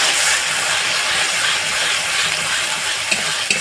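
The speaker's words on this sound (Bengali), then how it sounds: "মশলাটা ভেজে নেওয়ার পর এবার দিয়ে দিচ্ছি ভেজে পেস্ট করে রাখা মশলা।" Fried spice paste tipped into a hot pan for egg curry sets off a loud, steady sizzle and hiss of frying, with a couple of faint stirring clicks near the end and no talking.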